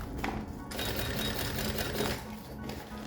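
A sewing machine runs a seam on a fabric lunch bag, a fast, even mechanical chatter of the needle that pauses briefly and then continues at close range.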